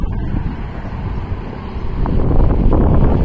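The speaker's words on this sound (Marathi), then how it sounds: "वारा पण खूप आहे." Strong wind buffets the microphone on a bridge with a continuous low roar that grows louder toward the end.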